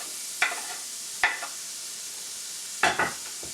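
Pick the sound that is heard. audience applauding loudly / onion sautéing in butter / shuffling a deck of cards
onion sautéing in butter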